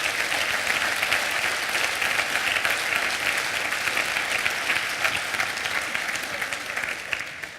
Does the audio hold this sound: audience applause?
yes